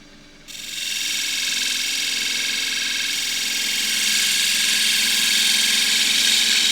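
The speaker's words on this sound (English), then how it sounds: "I'll try cutting it with a gouge." Gouge cutting wood on a lathe while turning a glasses stand, a steady high whirring scrape that starts abruptly after a brief quiet moment and holds loud and even, swelling slightly toward the end.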